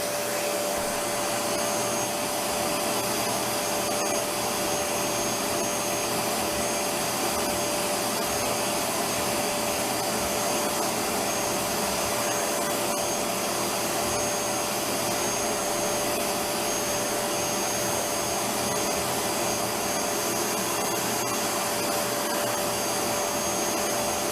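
Bissell SpotClean Pet Pro carpet cleaner running continuously, a loud, steady motor roar with suction hiss that never lets up, no voices.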